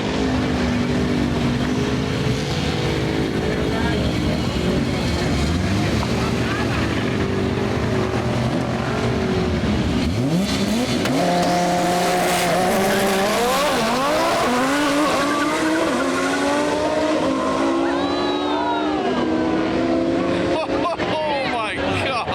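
A Nissan GT-R running a single Garrett G35-1050 turbo, tuned to about 900 hp, revs hard toward 9500 rpm, its engine pitch repeatedly sweeping up and down through fast shifts and passes, loud and close, with voices over it.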